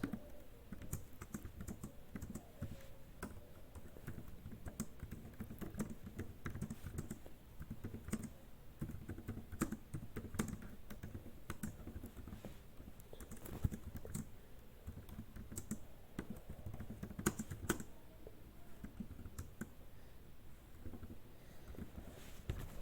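Computer keyboard typed on continuously, quick irregular key clicks and taps spread over the whole stretch, faint and close, with no one speaking.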